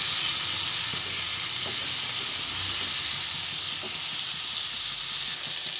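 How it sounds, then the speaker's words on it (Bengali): Cauliflower stirred and frying in a pan over a low gas flame, a steady close sizzle and hiss with occasional soft scrapes and knocks of stirring, no voices. "ফুলকপিটা ভালোভাবে নাড়াচাড়া করে নিই।"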